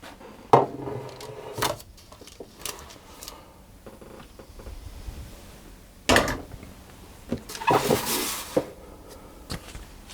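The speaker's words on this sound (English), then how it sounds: "so I need to put that into my prepared pan" Flapjack mixture being scraped and tipped into a prepared baking pan, with a few sharp clinks and knocks of a utensil against the tin and some soft scraping between them, close and fairly quiet with no talking.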